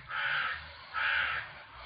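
Two loud, close crow caws, each a harsh drawn-out call with a short gap between, heard alone without talk.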